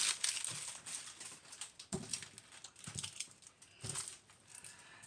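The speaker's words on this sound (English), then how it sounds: "if you don't like the crinkling noise, you can mute it" Plastic packaging from a Temu order crinkles and crackles as it is handled and opened nearby, with irregular crisp rustles and a few sharper crunches, fairly quiet throughout.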